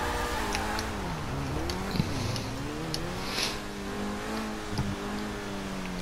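A Pegassi Toreador sports car engine in GTA Online revs up and down in waves, with rising and falling pitch and a few sharp bursts, fairly quiet and steady throughout.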